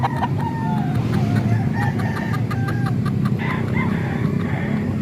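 Several large roosters cluck in short repeated bursts with occasional brief crowing, fairly close, over a continuous low rumble of farmyard noise.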